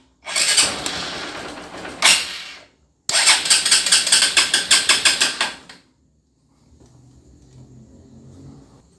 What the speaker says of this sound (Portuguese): Agora eu vou funcionar a moto